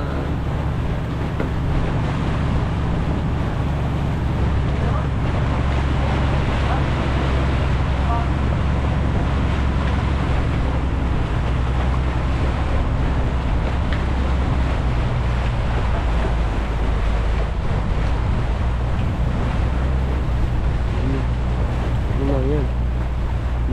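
A steady, loud drone of a boat engine runs without pause, mixed with wind buffeting and water noise, and voices faintly underneath.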